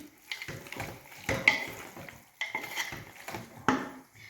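Spoon scrapes and clanks against a metal pot while a mutton dish is mixed, giving irregular bursts of stirring with sharp metallic clinks, close up and fairly quiet, with no talking.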